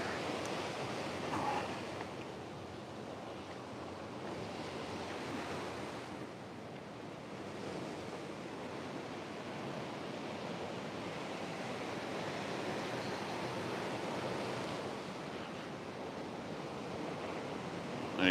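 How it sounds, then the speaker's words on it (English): Waves at La Caleta wash steadily onto the shore, a constant hiss of surf mixed with gusts of wind buffeting the microphone, with no voices. "A little bit closer to the sea here."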